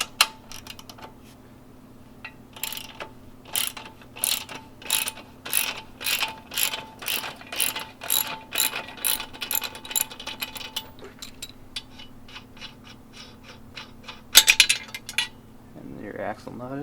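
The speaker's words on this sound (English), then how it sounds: "You're going to loosen up this axle." A hand ratchet cranks in a quick, steady run of clicks while loosening the rear axle nut on a Honda Grom MSX125, with a low steady hum beneath and a short metallic clink near the end.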